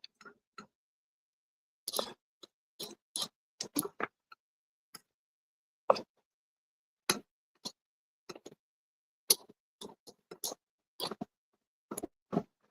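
Butter being stirred in a cooking pan for dinner, a scattered series of quiet clicks and scrapes of a utensil against the pan with gaps of silence between them, faint and close.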